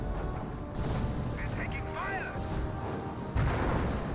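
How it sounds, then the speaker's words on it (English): Mortar fire in a Company of Heroes 1 battle, with thudding launches and crashing impacts layered through continuous battlefield noise and a sharper hit near the end, and no one speaking. "That's a mortar."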